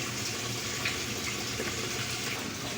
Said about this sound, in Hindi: ड्रम के अंदर फिलिंग होना शुरू हो गई है।